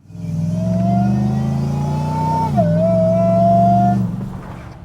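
A supercharged engine breathing through a Safari snorkel intake revs steadily with a rising whine on top, dips briefly, then holds a strong hum before easing off; no voices.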